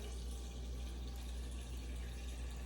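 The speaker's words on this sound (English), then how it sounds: "There's that filtered water coming from the fridge." Filtered water from a refrigerator door dispenser pours steadily into a cup in a home kitchen, a constant soft rushing stream with a low hum underneath, close and uninterrupted.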